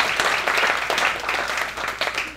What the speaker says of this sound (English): So if you could all just give yourselves a round of applause for being here